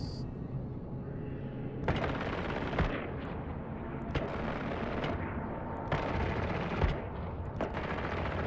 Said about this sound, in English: Let me shoot him down.